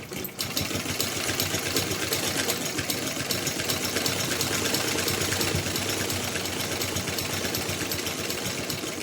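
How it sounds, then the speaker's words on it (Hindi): A sewing machine runs steadily for the whole stretch, stitching thin folded fabric strips for a small Laddu Gopal summer dress, its fast mechanical whir close and loud with no talking. "किनारों को दोनों साइड से फोल्ड करके पट्टी को सिल लेंगे।"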